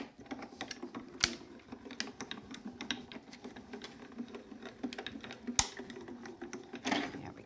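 A die-cutting machine cranking rose frame dies through black card, a steady rattling mechanical patter with a couple of sharp clunks, close and continuous without speech.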